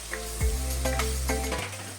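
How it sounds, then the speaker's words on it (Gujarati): Tomatoes sautéing in a hot pan of oil for a drumstick curry, a continuous frying hiss with a few light stirring knocks and a low hum underneath. "લગભગ બે મિનિટ જેવું ટામેટાને સાંતળીશું"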